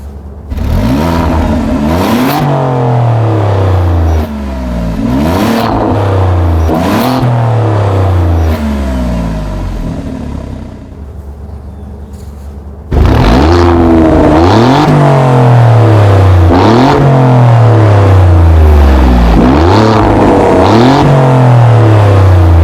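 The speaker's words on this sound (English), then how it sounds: "back to that exhaust note. Let's take a listen." Loud, close quad-exhaust revving from an Alfa Romeo Giulia Quadrifoglio: repeated rising sweeps with sharp upshifts, a brief quieter lull in the middle, then another run of hard pulls through the gears.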